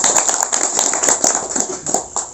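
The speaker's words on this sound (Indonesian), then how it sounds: "ini tepuk tangan dulu untuk kita semua" Audience applause at a community gathering, a burst of scattered, uneven hand claps close by, fairly loud and fading toward the end.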